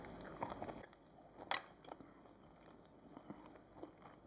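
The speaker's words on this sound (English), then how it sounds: "Let's try our sweet potato brownie." Close, faint biting and chewing of a homemade sweet potato brownie, soft crunchy bites with a louder chomp midway and quieter mastication continuing after.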